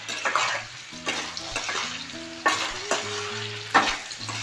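Melted jaggery mixture frying in a pan while being stirred, a soft sizzle punctuated by repeated scraping strokes of the spoon close by.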